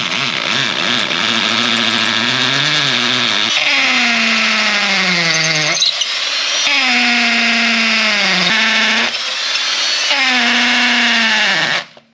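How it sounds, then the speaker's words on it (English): A power drill whines loudly in several long bursts, pitch sagging under load as it bores into a six-inch concrete slab, with short pauses between runs. "Let's drill this and see how deep the concrete actually is."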